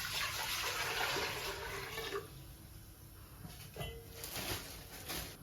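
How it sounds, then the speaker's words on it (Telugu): Water pours into a bowl set on a lit stove to make egg noodles, a steady rushing splash for about two seconds that then drops to a faint trickle with a few small clinks. "నీళ్ళు పోసుకోవాలి."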